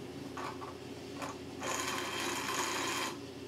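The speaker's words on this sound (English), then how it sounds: "I'm checking the motor to make sure that the motor works" A small electric motor from a Funhouse pinball machine runs on test, giving a steady mechanical whir with brief bursts at first, then a louder continuous hum for about a second and a half before it cuts off.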